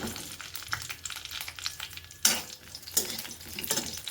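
Green chillies fry in a couple of spoonfuls of oil for a coriander and sesame chutney, a soft, steady sizzle broken by a few sharp scrapes of a spoon against the pan.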